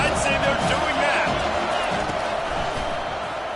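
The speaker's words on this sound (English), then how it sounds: "They challenge this crowd to bring the energy, and I'd say they're doing that." A large stadium crowd at a USC versus NC State football game roars and cheers steadily in a dense, sustained wash of noise, with a commentator talking over it.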